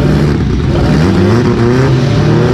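Two-stroke drag racing engine revving at a South African drag strip, a loud, buzzing, high-revving blare that holds steady and close throughout.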